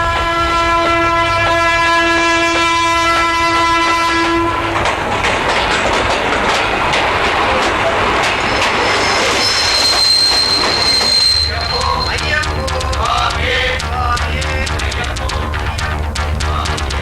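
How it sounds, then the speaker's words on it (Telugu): A train arrives with a long sustained horn blast, then rumbling wagons, squealing wheels and rhythmic clickety-clack, loud and close throughout. "ఒరే ట్రైన్ వచ్చిందిరా"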